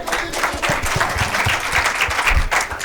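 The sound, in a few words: audience applause for Yoro Junior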